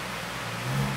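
A car revs on a dyno during a power run, a loud continuous engine roar close by that swells slightly toward the end.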